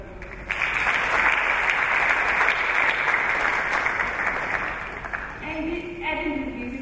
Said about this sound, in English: Please let's give it a round of applause.